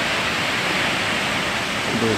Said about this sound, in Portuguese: Cachoeira do Jatobá, espetáculo do Mato Grosso, maior cachoeira do Mato Grosso